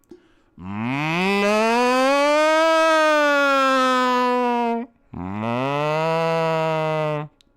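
A voice imitates a cow's moo in two long, sustained, tonal calls, the first drawn out and rising slightly and the second shorter after a brief pause, loud and close.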